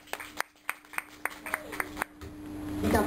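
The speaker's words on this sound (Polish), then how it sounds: "Wielkie brawa dla naszego dzisiejszego gościa." A small studio audience claps for a guest at an Empik talk event, giving about eight distinct, evenly spaced claps before the sound fades into quiet room noise and a soft rising rustle.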